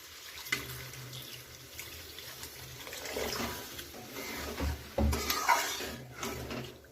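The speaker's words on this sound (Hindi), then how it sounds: "ऐड कर देंगे पानी।" Water splashes and trickles into a pan of bamboo shoot curry. The sound is faint and uneven, with a few soft bursts and clinks near the end.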